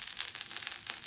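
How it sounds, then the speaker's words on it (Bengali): Mustard oil hitting a hot wok while cooking cauliflower bhorta, giving a steady, bright, close sizzle and crackle that lasts the whole short moment with no pauses. "এখন আমি সরষের তেল দিচ্ছি"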